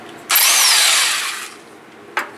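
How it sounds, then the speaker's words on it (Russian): A rotary hammer drill bites into a rubber rear suspension bushing on a Mercedes W126, one loud sustained burst of about a second that fades out, then a brief sharp knock. "Мы хотим попробовать сейчас перфоратором"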